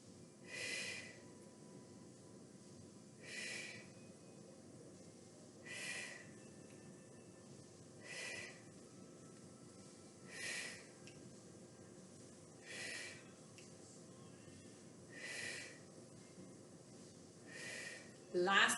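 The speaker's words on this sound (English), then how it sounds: "Breathe out, breathe in." Slow, deliberate breaths during a gentle elastic band exercise routine, soft airy exhalations recurring about every two and a half seconds, close and quiet with faint background hiss.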